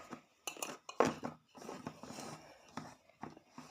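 Sabudana vada mixture being mixed by hand in a bowl with salt added, giving soft scattered clinks and rustles in short bursts, with faint whispery voice traces.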